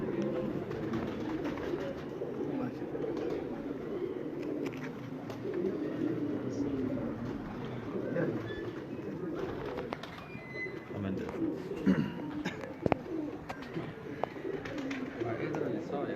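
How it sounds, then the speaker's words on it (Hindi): Soft cooing of golden magar pigeons repeats in the background over a steady low murmur, with occasional faint chirps and a few brief clicks. "राजा भाई आज हमारा दिल कर रहा था गोल्डन मगर कबूतर दिखाने को जी।"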